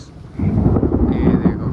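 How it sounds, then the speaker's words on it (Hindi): Heavy thunder rumbles loudly and close during rain, a deep rolling crack that swells after a brief quiet start and lingers for the rest of the moment. "ऐसे कड़क रहा है ना, एकदम ज़ोरदार कड़क रहा है भाई"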